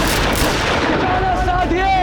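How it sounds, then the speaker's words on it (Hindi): Gunfire crackles and booms through a dense, continuous din as a battle is fought around Chittorgarh fort against Mughal forces, with a faint whistling tone rising and falling near the end. "अपनी बंदूकें संभालो और चलाओ गोलियां"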